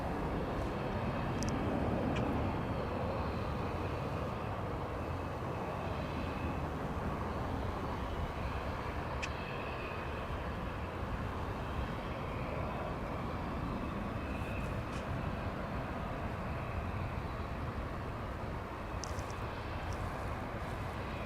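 An airplane takes off from a runway at DFW Airport, heard as a steady, distant broadband roar that holds level for about twenty seconds without talk.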